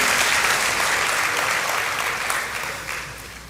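A church congregation at an evening service applauds, a full, close burst of clapping that gradually tapers off over a few seconds.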